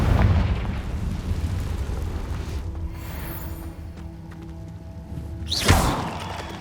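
A Confringo spell explosion goes off in Hogwarts Legacy as a deep rumbling boom that fades out, followed by a quieter lull with a faint hum, then a sharp whooshing burst near the end.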